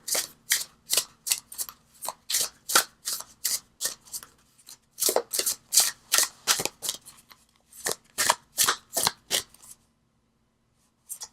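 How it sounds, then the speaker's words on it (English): Tarot cards are shuffled in a quick run of crisp, close riffling bursts, each a short papery flutter repeating at a steady rhythm with brief pauses, and no talking over them. "Okay, keep shuffling."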